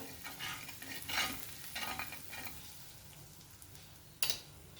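Spoon stirring pav bhaji vegetables with red chili powder and pav bhaji masala in a pressure cooker pot, gas off: steady close scraping and soft sizzling with periodic stirring strokes, a sharp clink near the end.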